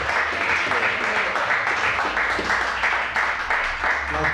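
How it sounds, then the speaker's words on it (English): An audience applauding a poet at a library poetry reading, a sustained round of many hands clapping at close range with a low hum underneath. "Let's give Patrick Johnson a great round of applause."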